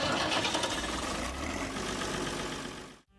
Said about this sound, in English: after a few hours of tinkering with the engine, it came to life.